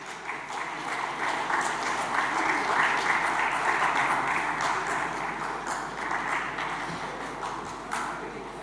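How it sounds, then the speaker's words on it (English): A conference audience at a logistics infrastructure event gives a long, even round of applause, a dense sustained rush of many hands clapping that fades slightly near the end. "Big round of applause,"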